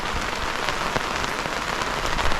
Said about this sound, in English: it is pretty much torrential rain